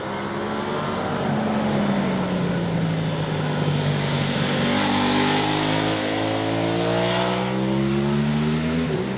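A high-revving Aprilia RS 660 sport motorcycle engine screams past, its pitch sweeping up and down as it approaches and recedes, loud and continuous throughout.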